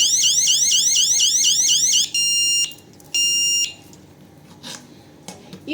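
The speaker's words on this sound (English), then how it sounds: "any sensor trigger will activate the alarm, as we show here" A Roombanker home alarm system sounds after a sensor is triggered: a loud, rapidly warbling siren for about two seconds, then two steady electronic beep tones with short pauses, followed by quieter clicks.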